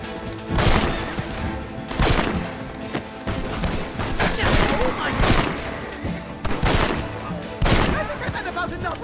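Gunfire rings out in Red Dead Redemption, several loud booming bursts spaced a second or two apart with rumbling echoes between them, while voices talk in the background.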